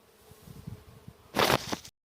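Honeybees foraging on apple blossoms in an orchard make a soft, steady buzz, quiet at first then swelling into a louder close pass before stopping abruptly.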